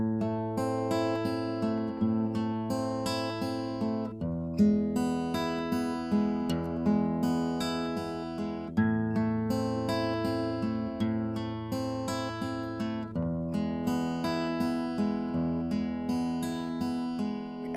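Guitar strummed in a steady chord pattern that shifts between chord shapes, ringing notes repeating evenly and moderately loud for about eighteen seconds, with no talk.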